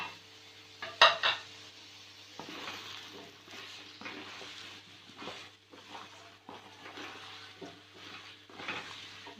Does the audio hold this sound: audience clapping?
no